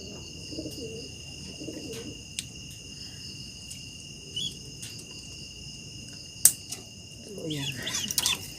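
Racing pigeons cooing quietly at a loft, soft low murmuring coos that come and go under a constant high chorus of crickets, with a few faint knocks and rustles nearby.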